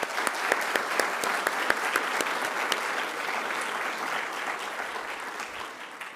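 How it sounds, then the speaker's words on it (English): A lecture-hall audience at a business school lecture series breaks into applause, with sharp individual claps near the start that settle into a steady, even wash of clapping, gradually thinning toward the end. "Please give them a round of applause."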